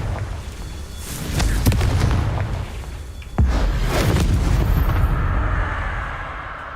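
Fiery spell blasts in the Hogwarts Legacy video game, two loud booming bursts about two seconds apart, each with a sharp crack and rumbling tail over a busy in-game background.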